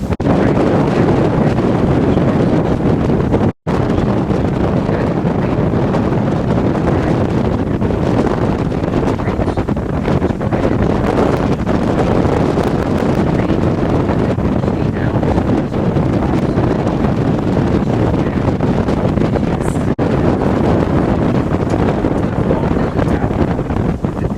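Strong wind roars steadily across the microphone over a tour boat's engine rumble in New York City, continuous and loud with no voices.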